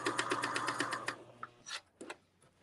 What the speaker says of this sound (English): I'm going to put the needle down in the material and then raise your presser foot slightly